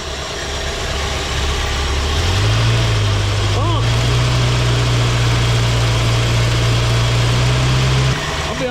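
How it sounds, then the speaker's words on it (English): 1967 Ford Galaxie 500 engine, with a bent push rod and running on bad gas, idles loudly and steadily up close, its low hum settling slightly higher after a couple of seconds before cutting down near the end. "Let her idle down."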